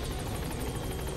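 The rotor thump and roar of a helicopter in Metal Gear Solid fills the whole moment. It is loud, steady and close throughout.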